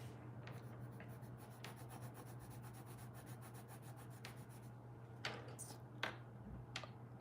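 Prismacolor colored pencils scratch across paper in soft, steady strokes, faint and close, over a low constant hum, with a few sharper taps and scrapes near the end.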